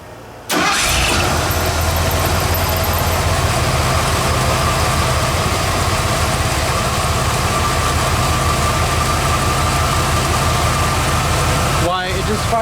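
A junkyard Bullnose Ford F150 with a newly installed Edelbrock fuel pump cranks briefly, fires up at once and settles into a loud, steady rumbling idle up close before cutting off near the end.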